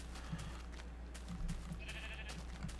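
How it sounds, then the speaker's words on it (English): Sheep in the video game Minecraft bleat a few times, quietly, over a low steady background hum. "let's not bother these poor sheep any more than we have to"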